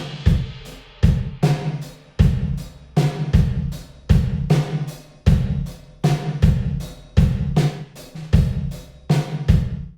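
A drum kit plays a steady groove of punchy kicks and snares, with reverb tails and early reflections from layered convolution reverb filling the gaps between hits.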